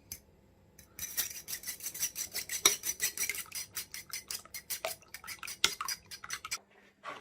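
Two eggs being whisked in a bowl for a Christmas pudding, a quick run of light, rhythmic clinking and scraping strokes, close and steady with brief pauses, no talking.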